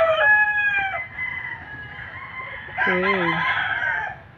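A rooster crows on a farm, one long harmonic call fading out, followed by a second loud, wavering crow. A brief spoken word is heard between the calls.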